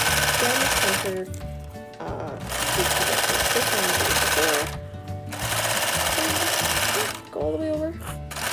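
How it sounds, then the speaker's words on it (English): A sewing machine stitches grosgrain ribbon in loud, steady whirring runs that stop briefly and restart, with speech heard during the pauses. "We're just going to stitch the grosgrain down the center."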